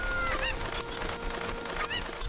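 Chicken from The Legend of Zelda: Ocarina of Time making repeated squawking, honking clucks over steady game background sound, two louder calls standing out near the start and end.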